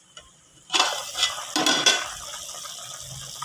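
A ladle stirs vegetable methi pulao with added water in a pot, giving a few scraping, wet clatters up close followed by a soft simmering hiss.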